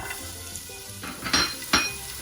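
Onions drop into hot oil in a pot for a Caribbean chicken soup, a soft sizzle with two sharp bursts of hissing and light clinks of a utensil against the pot.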